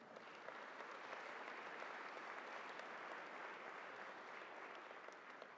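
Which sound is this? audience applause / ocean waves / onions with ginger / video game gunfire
audience applause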